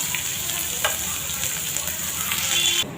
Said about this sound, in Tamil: சோம்பு நல்லா பொரிஞ்சதுக்கப்புறம் வெங்காயம், நான் ஒரு வெங்காயத்தை நல்லா பொடியாக கருப்பு பண்ணி வச்சுருக்கேன், அதை சேர்த்துக்கிறோம்.